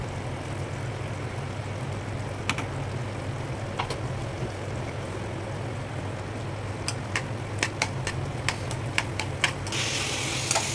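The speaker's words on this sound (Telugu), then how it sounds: "డ్రై ఫ్రూట్స్ వేసుకొని ఇంకొక స్పూన్ నెయ్యి వేసుకుంటున్నాను" Dry fruits frying in ghee for carrot halwa, a soft steady sizzle with scattered sharp clicks of a spoon stirring against the pan, growing busier toward the end, no voices.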